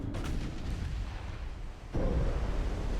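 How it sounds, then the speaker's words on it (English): A torpedo striking a battleship in the naval game Ultimate Admiral: Dreadnought: a dull, low rumbling boom with a sudden heavier surge near the end, muffled and continuous rather than sharp. "we took a torpedo hit"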